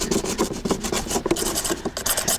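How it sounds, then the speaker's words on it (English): Dirt being scraped off lawnmower rollers by hand, giving a close, rough rasping rub that repeats in quick uneven strokes for a couple of seconds, with no voices. "Just scrape the rollers off as well."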